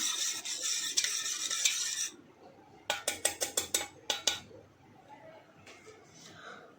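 An almond shake being mixed by hand: a scraping stir, then a quick run of sharp utensil clinks against the vessel, close and fairly quiet, with no talking.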